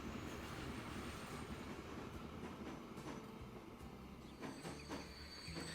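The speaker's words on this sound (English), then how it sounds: "we're probably going to have to wait for that train there." A train rolling along in the rail-building game Transport Fever 2, a steady rumbling drone with a faint rhythmic clatter of wagons that stays loud and even throughout, with no one talking.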